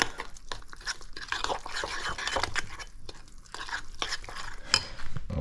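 Chicken seasoning and hot pepper being stirred together in a slow cooker, giving a close run of scraping, clinking and shuffling textures that continues steadily without speech.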